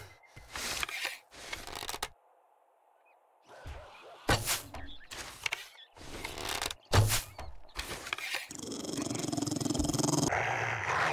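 A dog growling in the zombie survival game 7 Days to Die, heard as several short rough bursts broken by silences, ending in a steadier stretch of noisy sound.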